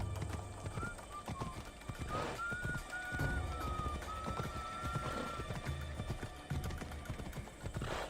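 Horse hooves clip-clop in the video game Assassin's Creed Odyssey, a quick rhythmic trot mixed with a whinny, set against a soft ambient background.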